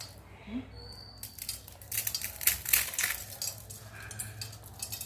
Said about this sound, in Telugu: కరకర కరలాడుతున్నాయి